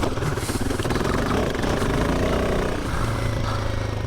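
A Royal Enfield Himalayan 450 motorcycle engine thrums on a trail, a loud, continuous low-pitched rumble with a throbbing pulse, close and steady throughout.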